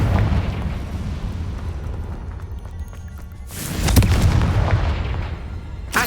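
Booming fire-blast spell explosions from the wizarding video game Hogwarts Legacy, a loud sustained rumble with a sharper burst near the middle, then another heavy blast rolling out toward the end; no talking.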